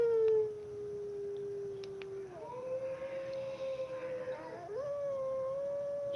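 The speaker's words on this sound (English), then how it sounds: "I'll be hearing howling noises." Recorded wolves howling, long sustained wavering tones that rise and fall and overlap, with a second howl joining partway, played back steadily at moderate level with no talking.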